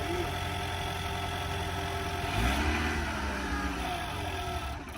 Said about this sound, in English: Lexus, started up with a jump.